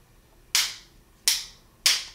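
The extended magazine release on a Standard Manufacturing 1911 pistol gives three sharp, bright clicks at close range, evenly spaced and alone against quiet room tone.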